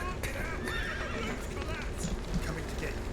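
A horse in the Witcher 3 video game neighs and whinnies repeatedly amid hoof clip-clop and busy game sounds, fairly loud, with talking over it.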